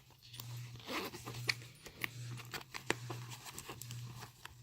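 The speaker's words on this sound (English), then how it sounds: "it has like this little zipper pocket. That's kind of hard to zip" Several quick zipping strokes from a small zipper pocket on a vintage Burberry backpack, close and fairly quiet, with scrapes and light handling noises in between.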